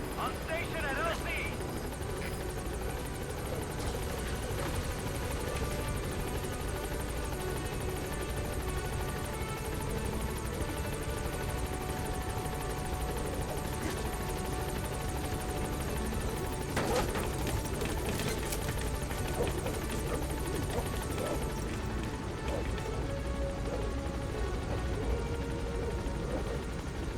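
Pequod, the support helicopter in Metal Gear Solid V: The Phantom Pain, holds steadily over a landing zone, its continuous rotor and engine drone filling the scene with game speech over it.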